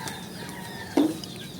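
A single short cluck from a chicken, fairly close, over a steady low background hum.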